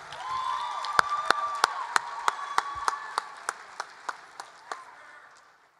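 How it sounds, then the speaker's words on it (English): At a poetry slam, an audience claps and cheers for a poet, with bright scattered applause joined by about a dozen sharp, evenly spaced claps that fade toward the end. "Applaud the poet."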